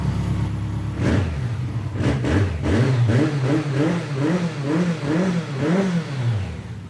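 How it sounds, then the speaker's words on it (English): A BMW K100 motorcycle engine with a Remus exhaust, warmed up after a cold start, revs repeatedly in rising and falling throttle blips, loud and close, with a steady rumbling idle underneath. "That Remus exhaust sounds really good."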